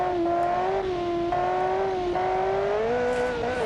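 Sustained engine drone from a 1300HP tuned car in BeamNG.drive during a clutch kick, loud and steady with a rising, slightly wavering pitch and no talking.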